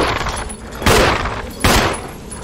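Two sharp handgun shots in the Resident Evil HD Remaster video game, spaced under a second apart, loud and close over a steady background game ambience.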